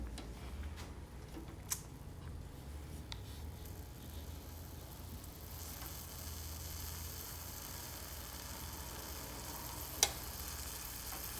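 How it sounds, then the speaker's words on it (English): Ground beef sizzling in a pan for a simple ramen-noodle casserole, a steady faint hiss of frying throughout with a couple of small clicks and taps. "I'm hearing it starting to sizzle."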